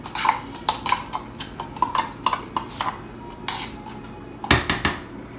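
A metal spoon scrapes condensed milk out of a can, giving a string of quick clinks and scrapes in an uneven rhythm, close and fairly quiet, with one louder clatter near the end.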